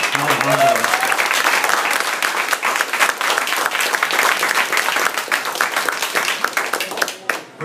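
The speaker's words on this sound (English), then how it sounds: "Let's give a round of applause to Mr. Tramps" Crowd at a live show in a venue gives a hearty round of applause, dense clapping beginning under a brief spoken line and then continuing alone before tapering off at the end.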